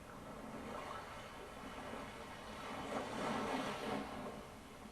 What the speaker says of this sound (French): Le bercement des vagues.